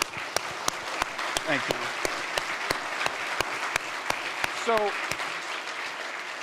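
An expo audience applauds a photographer at the B&H show with a run of crisp, scattered hand claps and a brief spoken thanks over the clapping.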